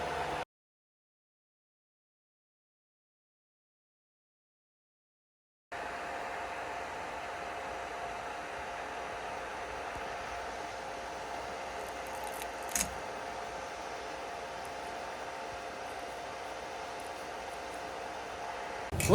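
A 3D printer heating up and beginning to print, a steady faint fan-like whir with a soft mechanical hum after a short silent gap, one brief tap partway through.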